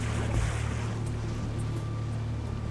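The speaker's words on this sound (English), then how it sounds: "It's a waterfall." A waterfall in the Halo 3 video game gives off a continuous rushing roar of water that holds steady and fairly loud throughout, with no talking.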